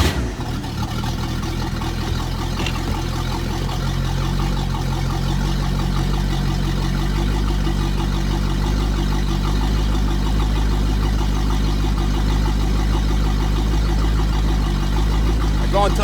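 An OMC Cobra inboard-outboard boat engine runs steadily after starting, a loud continuous low rumble that holds at a near-constant idle throughout.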